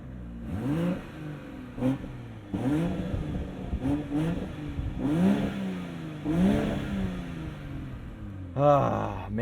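A 2022 BMW M240i with a 3-liter inline-6 revs repeatedly, each blip rising and falling in a deep, throaty sweep, a dozen or so bursts in quick succession with a sharper run of revs at the close.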